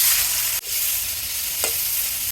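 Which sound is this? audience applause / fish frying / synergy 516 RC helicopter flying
fish frying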